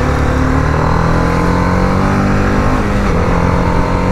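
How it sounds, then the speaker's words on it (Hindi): A Kawasaki Ninja 650 superbike with a steady, close, loud engine drone as it rides along, constant throughout with no voices over it. "सोचते हैं कोई सुपर बाइक जा रही है।"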